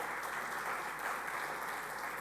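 Steady, dense applause from a church congregation during a sermon, loud and continuous without a break for the whole stretch.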